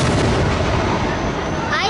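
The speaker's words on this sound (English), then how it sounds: "I figured they let fireworks down here too." Dense, continuous rumbling booms of fireworks exploding at the Miamisburg Riverblast fill the whole stretch, loud and overlapping with no gaps, with a faint whistle rising near the end.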